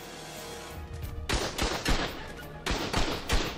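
A turret in the video game ARK opens fire from the grass in two sharp bursts of rapid gunshots, loud and punchy after a quieter stretch of ambient game noise.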